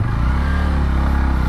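A Bajaj Pulsar N125 motorcycle engine revs close by, a steady throaty rumble with a rapid pulsing beat and no voices.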